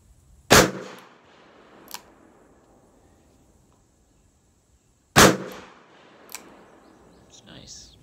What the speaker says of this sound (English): Single action, smooth trigger pull.